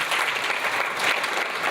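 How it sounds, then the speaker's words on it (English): Attendees at the 66th IRA CEO's breakfast meeting give the presenter a round of applause, a brisk, dense burst of clapping that holds steady and fairly loud from start to finish. "Can we give him a round of applause?"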